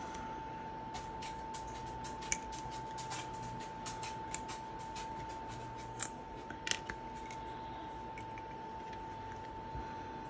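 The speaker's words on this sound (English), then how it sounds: "Maybe what we need is scissors to cut the bones." Several sharp snips of scissors cutting small bones click at irregular intervals over a steady background hum, close and fairly faint.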